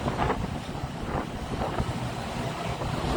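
Strong wind on the deck of the Carnival Encounter cruise ship buffets the microphone with a constant roar, plus a low rumble like an engine or water rushing beneath.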